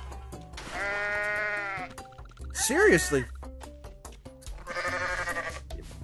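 Goat bleats from the Goat Simulator video game, a long wavering bleat followed by a shorter one and another drawn-out cry, mixed with game sounds and a voice speaking briefly.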